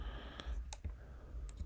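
Several sharp mouse clicks while working in Inkscape, spaced irregularly, close and fairly quiet with no talking.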